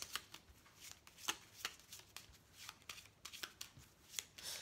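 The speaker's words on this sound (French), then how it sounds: "on va tirer quelques cartes du petit Lenormand pour compléter" Petit Lenormand cards shuffled for a card reading, a soft, quiet stream of papery riffles and flicks repeating irregularly, close and alone without any talk.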